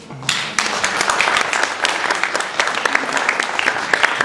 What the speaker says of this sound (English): let's give a big round of applause for her